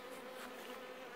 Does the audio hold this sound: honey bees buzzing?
yes